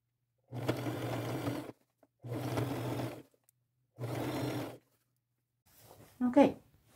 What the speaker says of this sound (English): I think I will just sew the top